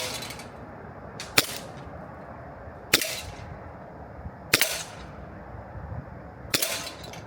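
A solid-metal CO2 BB pistol with blowback action fires four sharp, close shots about one and a half seconds apart, each a crisp crack with a brief gassy hiss as BBs tear through a plastic coffee can lid.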